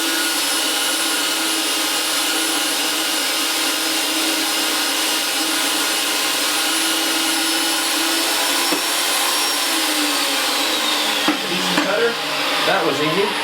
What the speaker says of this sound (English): Bring the cutter down in position. Tighten it lightly against the pipe. And gradually make the cut.